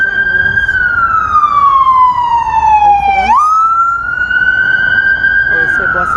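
Ambulance siren wailing loud and near, sweeping down in pitch then abruptly jumping and rising again as it passes, with faint background noise beneath.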